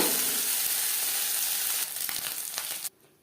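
Sea fish frying, Mourola small fish, sizzles loudly in hot oil, then the frying drops abruptly toward quiet near the end.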